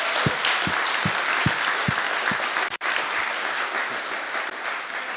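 Sustained, dense applause fills a hall at a French-speaking church gathering, with a steady series of low thumps in the first half and a brief dropout near the middle.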